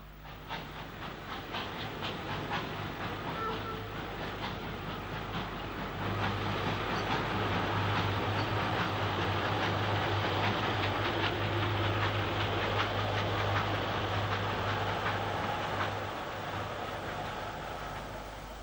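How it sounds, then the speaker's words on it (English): A Patriot Class steam locomotive at Crewe South speeds past hauling an up express, a loud, steady rush of wheels and steam swelling as it passes close by, then easing slightly toward the end. "A Patriot Class 460 speeds through on an up express."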